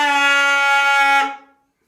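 A single Kotzschmar organ reed pipe sounds a bright, brassy, trumpet-like tone, held steady for just over a second, then fading away into silence.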